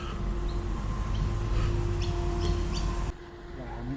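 Many birds chirp in short bursts over a steady outdoor city background hum in Sydney, and the busy ambience drops away abruptly near the end.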